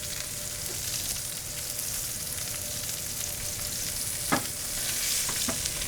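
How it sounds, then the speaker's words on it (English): Steak searing in a hot pan gives a steady, dense sizzle close up, with a couple of brief sharp pops or taps partway through and no talking. "you're searing it correctly to get a nice crust"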